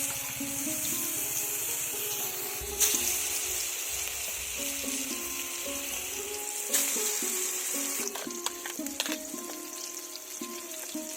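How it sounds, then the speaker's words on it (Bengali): Eggplant rings sizzle and spatter in hot oil in a wok, a steady close-up crackle running throughout with a few louder pops and bumps as the pieces settle. "কড়ার তেলটা গরম হয়ে গিয়েছে, এবার রিং করে রাখা বেগুনগুলো দিয়ে দেব।"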